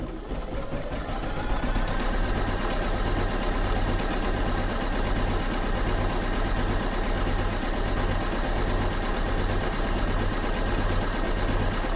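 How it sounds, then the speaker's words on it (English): A sewing machine stitches down quilt applique in a continuous fast needle run, a steady close mechanical rattle and motor hum lasting throughout without pause or talk. "just letting the needle go barely off the edge of this applique I'm currently stitching down"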